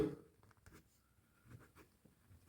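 A pencil writes an answer on paper in a few quiet scratchy strokes, close and faint, separated by short pauses.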